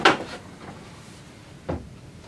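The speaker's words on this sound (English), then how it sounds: "bring the door over" A cabinet door swings open with a sharp clack at the start and a softer knock about a second and a half later, both close by with a quiet room between them.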